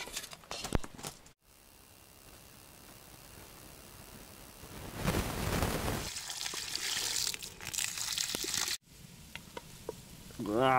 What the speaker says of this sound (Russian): две вот таких тушеночки запустим. И нормально стушится у нас еще две луковицы